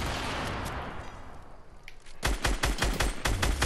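Opponent gunfire in Fortnite: after a stretch of noisy rumble, a rapid string of sharp, loud shots rattles out in quick succession, close by and with no talking.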